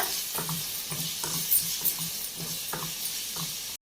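Steady sizzling in a hot pan as ginger garlic paste sautés, with a regular rhythm of stirring scrapes, roughly two per second, close by and without talk.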